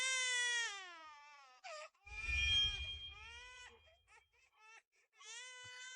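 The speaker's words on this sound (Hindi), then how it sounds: "बच्चा रो रहा है।" Baby crying in loud, wavering wails with short breaks and a brief rough, noisy burst in the middle, close and continuous over about six seconds.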